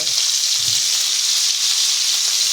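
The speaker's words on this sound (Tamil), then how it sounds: "உருளைக்கிழங்கு அரிஞ்சு வச்சு அதை இந்த பக்கம் வதக்கிட்டு இருக்கோம்" Diced potatoes sauté in hot oil for a broccoli and potato gravy, giving a steady, close, continuous sizzle and hiss that holds evenly throughout with no talking.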